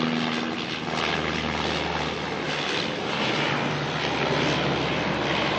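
A small Dash 8 turboprop on flight NZ5212 from Blenheim arrives at Auckland Airport, its propeller engines making a loud, steady broadband roar and drone that hold throughout without talk.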